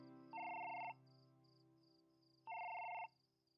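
A telephone rings twice, each electronic trill lasting about half a second with a pause between, fairly quiet over a steady hum.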